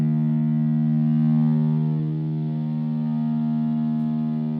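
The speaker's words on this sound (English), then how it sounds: "One little issue I have with the distortion mode is this." A Nova Go Sonic guitar plays a single open string through its distortion mode, a sustained buzzy droning tone that swells slightly and then slowly fades, with no talking.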